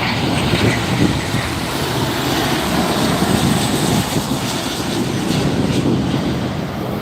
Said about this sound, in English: Alaska Airlines, Flight 330 coming in from Portland.